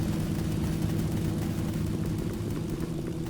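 An airplane engine in a video game gives a steady, dense droning roar that holds level for the whole stretch, with no voices over it.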